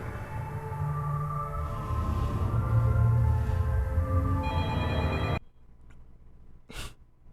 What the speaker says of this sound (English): Is nobody gonna get the phone?